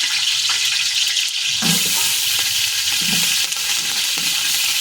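Green chillies fry in a pan of oil with whole spices such as cinnamon and cloves, a loud, constant sizzle that swells after the first second.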